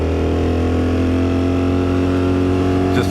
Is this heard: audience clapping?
no